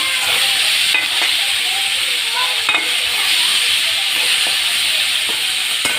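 Tomatoes with a pinch of turmeric sizzle steadily in a pan, a constant close frying hiss with occasional faint stirring clicks throughout.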